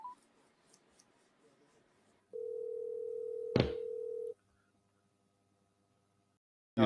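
A steady telephone tone sounds for about two seconds as a call is placed, with a sharp click midway, preceded and followed by quiet room sound.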